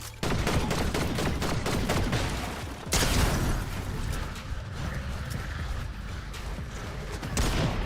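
Shotgun fire in Fortnite, with rapid, sharp bursts of shots and clattering game effects packed densely and loud throughout, one heavier blast standing out partway through.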